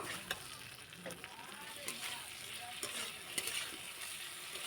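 Potatoes sauté in a pan for a Bengali fish-head curry, a low, steady sizzle with occasional scraping stirs and clicks, fairly faint and close.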